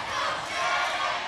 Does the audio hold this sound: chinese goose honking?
no